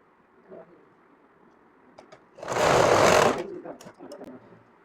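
A sewing machine stitches pyjamas fitted with thick elastic and snap buttons, running in one short, loud burst of about a second amid quiet surroundings, with soft speech before and after.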